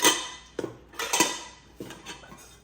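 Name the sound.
camping cooking pots clinking as they are handled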